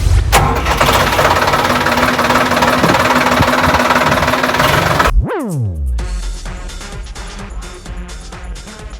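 A tractor engine is cranked and catches, sweeping up from a loud rumbling start into a steady, knocking idle, close and loud with no talk.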